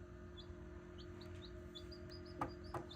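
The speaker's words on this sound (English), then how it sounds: "Hey, he's chirping and everything." A newly hatched backyard Leghorn chick peeps in a run of short, high, faint chirps, with a couple of louder knocking clicks near the end.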